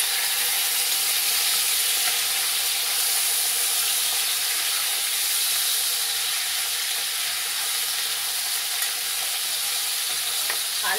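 Baby potatoes and onions fry in oil in a pan, giving off a loud, steady sizzle and hiss that runs unbroken throughout, with occasional light stirring and no talking.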